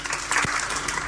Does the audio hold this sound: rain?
no